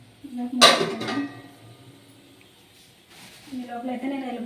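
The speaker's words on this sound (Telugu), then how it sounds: "మూత పెడతావా?" A metal lid knocks and clinks onto a cooking pot in a home kitchen, one bright clatter early on, then a quiet stretch before someone starts talking.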